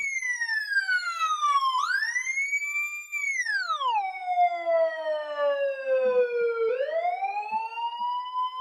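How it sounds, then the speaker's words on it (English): A loud wailing siren sweeps up and down in pitch, its tone sliding noticeably lower as it passes, continuous and alone. "what you guys can see is my siren is moving towards the person"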